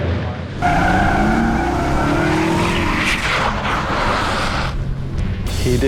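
Tires squeal and a car engine roars as a stunt car skids through a 90-degree spin on set, a loud continuous screech sweeping in pitch for several seconds with a brief drop near the end.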